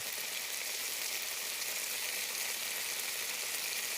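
Fries crisp in a pan of oil with a loud, steady, unbroken sizzle close by, heard alone without talk.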